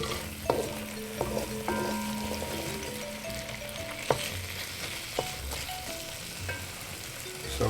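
Vegetables sweating over an open fire for a Jamaican-style mackerel rundown, with a steady low sizzle and frying crackle and occasional stirring clinks and knocks, close and moderate, no talk.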